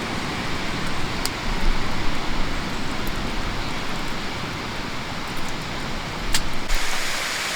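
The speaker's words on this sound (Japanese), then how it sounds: "これゲリラ豪雨やん。" A sudden heavy downpour at Shumarinai Lake campsite, a dense, loud roar of rain pounding nearby surfaces without a break, with a few sharp drips standing out from the wash.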